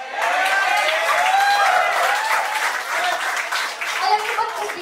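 A seminar audience claps steadily and fairly loudly the whole way through, with a speaker's voice running over the applause.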